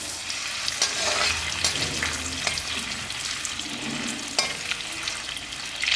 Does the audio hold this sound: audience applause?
no